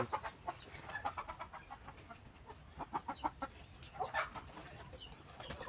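Repeated short clucks from chickens, fairly close, scattered irregularly over a faint background hiss.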